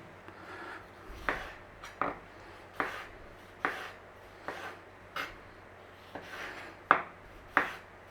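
Vegetables being diced with a knife for Honduran tajadas with pickled onion: a steady series of crisp, close chops on a board, roughly one per second, with quiet pauses between strokes.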